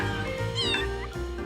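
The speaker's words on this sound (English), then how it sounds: "no game about cats is complete without a meow button." A short cartoonish cat meow from a meow button in a cat video game, a single rising-and-falling call heard clearly over steady game background music.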